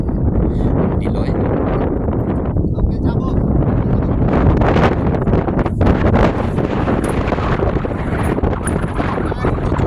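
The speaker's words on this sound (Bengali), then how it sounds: "বাতাস বাতাসে ছাতি উড়ে যাচ্ছে" Strong wind buffets the microphone with a loud, continuous roar and gusts throughout, with rustling mixed in.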